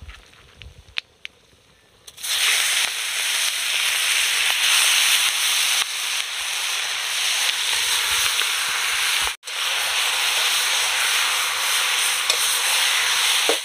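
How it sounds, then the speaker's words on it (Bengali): Chicken meat drops into hot oil spiced with bay leaf, dried chilli, whole garam masala and a little sugar, setting off a sudden loud, continuous sizzle that cuts out briefly once before resuming. "এবার মাংসটা দিয়ে দেব।"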